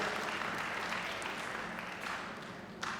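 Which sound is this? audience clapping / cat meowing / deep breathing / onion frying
audience clapping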